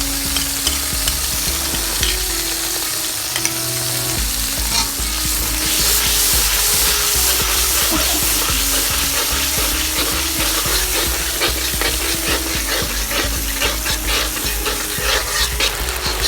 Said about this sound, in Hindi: अब इसको भून लूँगी थोड़ी देर